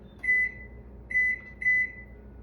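An oven timer, with the oven preheated to 350 degrees for baking keto cookies, gives three short, clear electronic beeps close by as it is set, with only faint background hum between them.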